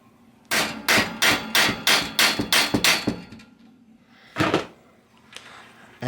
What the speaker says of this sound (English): I've got my new cotter pin, so slide that into place there. Let me go ahead and tap this down.